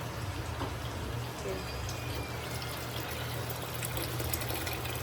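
Water pours steadily into a container, a continuous splashing rush that lasts the whole time at a fairly close distance.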